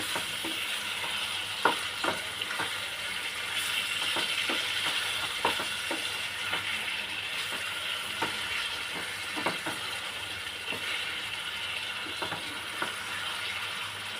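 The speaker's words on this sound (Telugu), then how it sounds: "ఒకసారి చికెన్ని బాగా మిక్స్ చేద్దాం." Spicy chicken curry with green chickpeas fries in a pan, a steady close sizzle broken by regular scraping taps of a spoon stirring against the pan, with no voices.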